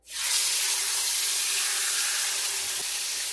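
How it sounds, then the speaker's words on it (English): Seasoned deer neck roast dropped into hot oil, bursting into a loud hissing sizzle that starts abruptly and holds steady and close, with no voices. "We've got the meat all seasoned, so we're going to sear it."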